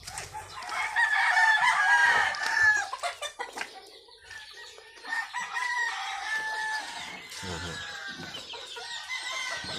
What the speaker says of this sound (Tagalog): May mga manok po na sulod.